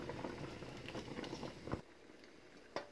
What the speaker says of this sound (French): So I'm going to let it boil again for another 2 minutes and the sauce should be ready.